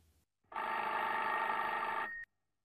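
An old telephone bell rings in one continuous burst of about two seconds, clear and fairly close, with quiet before and after.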